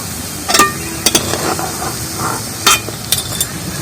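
Fried banana pakoras being lifted out of hot oil, with scattered clinks of a slotted spoon against the pan over a soft background sizzle, several sharp taps in quick bursts.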